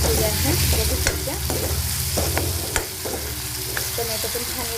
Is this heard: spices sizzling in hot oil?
yes